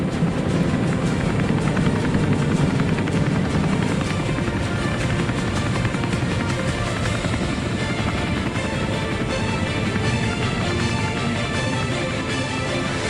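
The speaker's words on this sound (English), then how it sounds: "the combined helicopter formation featuring the Seahawk, Apache, Super Puma, and Chinook helicopters" A helicopter formation of Seahawk, Apache, Super Puma and Chinook flies past over the Padang at Singapore's 2015 National Day Parade, producing a steady, dense rotor and engine roar that persists without letup.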